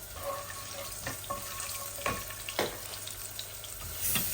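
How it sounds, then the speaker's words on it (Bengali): Water is poured into spices frying for a lentil curry: cumin seeds, cinnamon sticks and bay leaves. It makes a soft, continuous hissing sizzle with a few sharp crackles and clinks, fairly faint, with no talking. "এই আমার ডাইলের জন্য আমার মশলাগুলা ভাজা হয়ে গেছে। একটু পানি দিচ্ছি আমি, যেন মশলাগুলা পুড়ে না যায়।"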